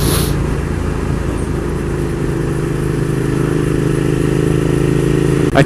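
A Suzuki SV650S motorcycle engine drones at a steady, loud, close pitch while riding, an even mid-range hum with a faint rattle and no change in revs. No voices.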